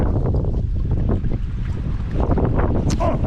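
Strong wind buffets the microphone outdoors on a cold catfish fishing trip, a heavy low rumbling roar that gusts unevenly throughout.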